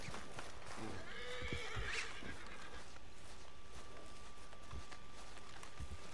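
A horse in Red Dead Online, being broken by the player, lets out a clear whinny over steady background ambience, with light hoof clops and a brief voice underneath.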